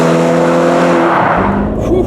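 The engine of a Ferrari California T revving hard under acceleration, loud and close, a dense roar that stays strong throughout and shifts in tone near the end.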